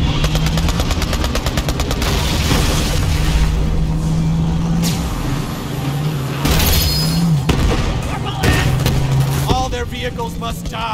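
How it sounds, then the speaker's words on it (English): Gunfire and explosions in the shooter game Borderlands 3 during a vehicle battle, loud bursts and rapid shots over engine roar, with voices shouting over the chaos. "They're shooting at us!"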